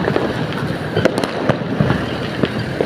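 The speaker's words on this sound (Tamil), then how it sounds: "பொதுவாக மக்களுக்கு பட்டாசு வெடிப்பதில் மிக்க மகிழ்ச்சி" Firecrackers bursting during Diwali celebrations in the Sivakasi area, sharp cracks and pops scattered irregularly over a continuous background rumble of distant explosions, some bangs loud and close, others faint.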